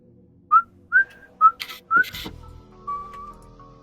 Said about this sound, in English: you just hear behind you Mercy starts to whistle.